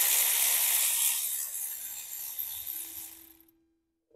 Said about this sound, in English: grab your 12 mil socket and we're going to undo this bolt right here that has the soft brake line